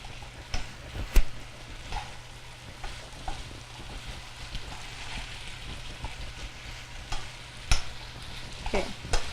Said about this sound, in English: Getting that quintessential stir fry smell and look now.